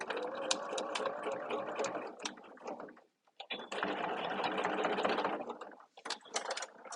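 A sewing machine stitching a 1/4 inch seam, a close, fast rattling whir running in two long bursts with a short pause between and a brief stop near the end.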